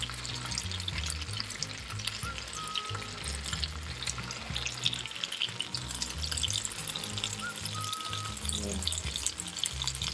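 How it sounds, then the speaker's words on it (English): Birria meat fries in its own fat inside a crockpot, giving a quiet, continuous crackling sizzle with faint bubbling that stays steady throughout. "It's like frying in their own fat."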